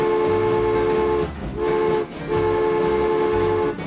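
A train in the video game Transport Fever hums with steady tonal engine drone and rolling noise, briefly dipping twice before resuming, loud and close with no voices.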